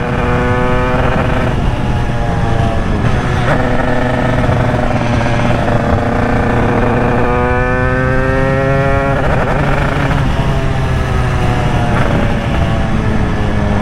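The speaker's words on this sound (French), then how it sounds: "On voit quand on pousse la moto, on entend le disque qui crie." Worn rear brake disc on a pushed Derbi motorcycle squealing in repeated rising tonal whines over a constant low rumble, loud and close, with several separate squeal bursts.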